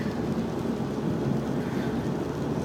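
Steady rain falls and patters throughout, a continuous broadband wash during a rainy day drive, loud and unbroken with no voices.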